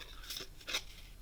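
Scissors fussy-cut paper card in two short, crisp snips about half a second apart, close and fairly quiet against a faint background hiss.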